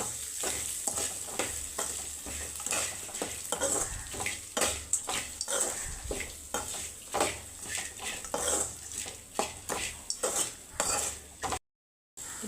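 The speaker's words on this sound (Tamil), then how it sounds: "நம்ம இதை நல்லா எண்ணெயிலே வதக்கணும் ஃப்ரெண்ட்ஸ்" Purple cabbage being stirred and sautéed in oil in a pan, with steady scraping and clinking of a utensil against the pan in a quick repeating rhythm over a soft sizzle, close and fairly quiet.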